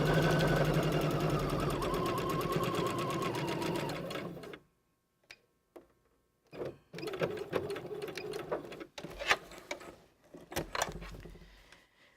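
A sewing machine stitches up a zipper seam for a centered lapped zipper, a steady close whir for about four seconds, then short stop-start bursts of stitching with quiet gaps between.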